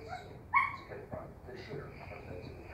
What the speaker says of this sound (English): What puppy is in there hiding from you?